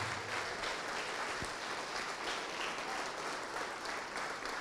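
Steady audience applause fills a church gathering, dense and continuous throughout with no voices rising above it.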